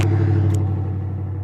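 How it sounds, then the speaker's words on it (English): A Thomas Built or Blue Bird school bus rolls past close by with a deep, steady engine rumble that slowly eases off over a second and a half. "There's the school bus."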